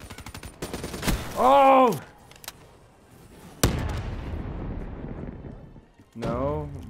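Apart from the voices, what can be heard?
gunfire in video game Call of Duty: Black Ops III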